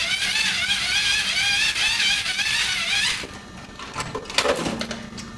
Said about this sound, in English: this device so happens to be a motor